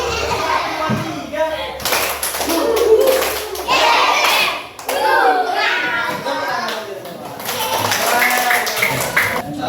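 Children in a classroom chant together through a rhythmic counting clapping game, with bursts of hand claps and slaps landing on the beat under their loud group voices.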